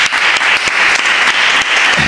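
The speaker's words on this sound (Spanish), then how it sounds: "Un aplauso para ellas, por favor." An audience claps loudly and continuously for about two seconds, dense applause with a few sharper individual claps standing out, and no voices over it.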